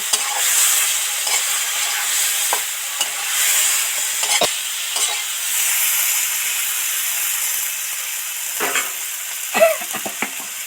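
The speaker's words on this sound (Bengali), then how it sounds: "জিরে ধনে মরিচ গুঁড়ো আসল মশলা একটু জল ছড়া দিলাম দিয়ে এবার ভালো করে নেড়ে মিশিয়ে দেব" Ground spices — cumin, coriander and chilli powder — stirred with a splash of water in a frying pan for an okra and catla fish curry, giving a steady close hiss and sizzle with occasional scraping strokes of the spoon.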